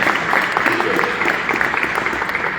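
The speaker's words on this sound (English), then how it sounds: "Councilman Harrison, give a round of applause." An audience at a town hall with Mayor Justin Bibb at East Side Collinwood High applauds Councilman Harrison: loud, close, continuous clapping from a crowd, with a few voices mixed in beneath.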